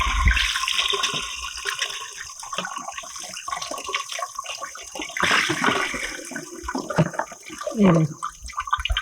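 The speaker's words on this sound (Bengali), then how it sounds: "চাউ যেমন ঠান্ডা জলে ধুয়ে নিই তেমনভাবে আমি এই চাউগুলোকেও ধুয়ে নেব" Cold water running over boiled homemade chow noodles as they are rinsed, a steady splashing tap flow with clattering and sloshing bursts, close and fairly loud throughout.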